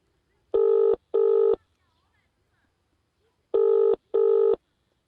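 A telephone ringing in the classic double-ring pattern, two pairs of electronic trills separated by a pause, clear and alone.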